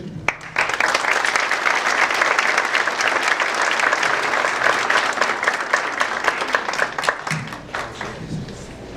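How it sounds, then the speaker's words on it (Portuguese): A conference audience in Quito, Ecuador, applauds to welcome a speaker, with dense, sustained clapping from a crowd that stays loud for several seconds before thinning out near the end. "Ahora recibimos con un gran aplauso al señor Divaldo Pereira Franco"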